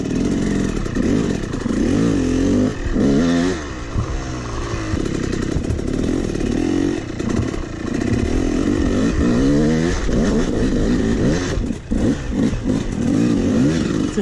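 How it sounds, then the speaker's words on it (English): Trials motorcycle engine revving loudly and continuously at an EnduroCross log wall climb, the bike running rough with uneven throttle blips and some clattering, close to the listener with no talk. "My bike's running like crap."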